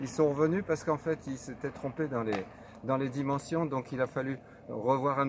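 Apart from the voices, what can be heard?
None of the usual background noises is heard.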